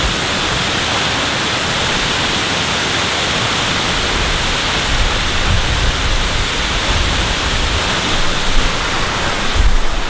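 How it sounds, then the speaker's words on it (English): A constant, loud roar of a rushing, falling waterfall on the Olympic Peninsula fills the scene, broad and unbroken, with a slight low rumble toward the end. "it's definitely a very pretty waterfall"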